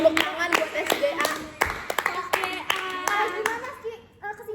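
A small group of high school students claps in a classroom after a book review presentation, with irregular bursts of hand claps scattered among youthful chatter and laughter, loud and close, with speech breaking in between the claps.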